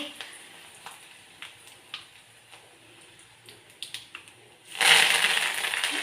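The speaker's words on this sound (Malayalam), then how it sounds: "കടുക് പൊട്ടിയിട്ടുണ്ട് ഒരു വറ്റൽ മുളക് രണ്ട് മൂന്ന് വറ്റൽ മുളക് കൂടി" Mustard seeds and dry red chilies in hot oil for a tempering: faint scattered pops and ticks, then a sudden loud burst of sizzling near the end that continues strongly up close.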